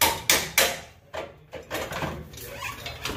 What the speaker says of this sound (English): Air ratchet it.